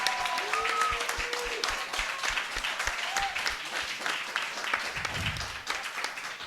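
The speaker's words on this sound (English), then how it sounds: "let's also keep the applause going for Tim, Phoenix, and Five Threads" Audience applause at a live retro game night podcast show, dense clapping sustained for several seconds at moderate distance, with a few brief voices calling out over it.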